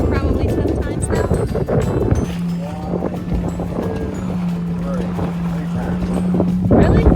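A Catalina 22 sailboat under sail makes steady wind and water rush, with a sustained low hum through the middle and voices chatting over the noise.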